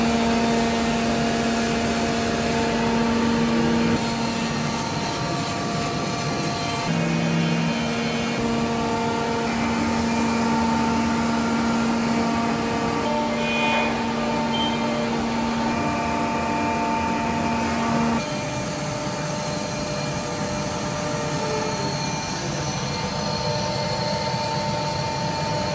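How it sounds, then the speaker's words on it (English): A laser machine cutting a leather top for a signature guitar in a factory gives off a steady, close, droning hum with sustained whining tones that shift slightly partway through. "switching on the laser machine"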